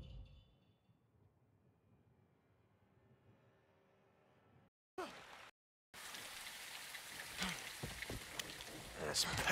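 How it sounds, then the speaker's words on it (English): Heavy rain in the video game Modern Warfare 2, a steady dense hiss that comes in faintly, cuts out briefly, then returns loud and continuous with scattered sharper splashes, growing stronger toward the end. "It's raining fucking hard."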